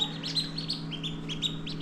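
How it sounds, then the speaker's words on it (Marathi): Young ducklings peep in a rapid, steady series of high chirps, close and moderately loud over a low background hum. "या ही बदकाची पिल्लं आहेत"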